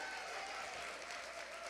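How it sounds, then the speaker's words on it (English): A congregation gives a round of applause for three generations of guests at a Soul Power celebration, a brief, even burst of faint, distant clapping. "let's give them a round of applause"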